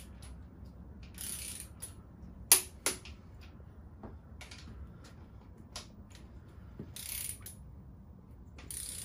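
A torque wrench ratchets while engine bolts are tightened during an engine rebuild, quiet repeated clicking bursts of the pawl with a few sharper snaps, close and spread over several seconds.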